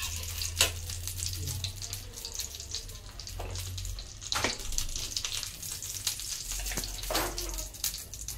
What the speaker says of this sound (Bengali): এখন আমি ঘি দিয়ে দিচ্ছি।